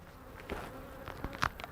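Faint buzzing of honeybees close by at a hive entrance, with a few short passes of single bees flying in and out against a quiet background.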